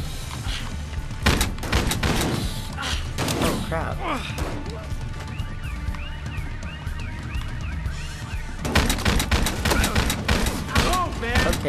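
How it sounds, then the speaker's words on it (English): Shotgun blasts and rapid gunfire in a Battlefield Hardline firefight as a shot tears through a wall, loud, dense and repeated, with someone talking over the bursts. "With a shotgun, you're definitely gonna blow through a wall, especially one like this."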